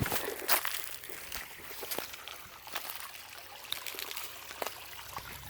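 Water trickles and streams along a back nature trail at the San Diego Zoo Safari Park, a steady close wash with faint scattered knocks that may be footsteps.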